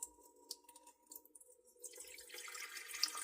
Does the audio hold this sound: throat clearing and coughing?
no